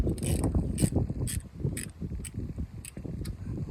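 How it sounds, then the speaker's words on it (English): A ratchet fitted with a 10mm socket undoing bolts on the thermostat housing of a MK2 Golf, rapid close clicking pawl ticks in an uneven rhythm with a few sharper metallic bursts. "Okay, so we've got 1, 2 to undo. 10mm socket on this."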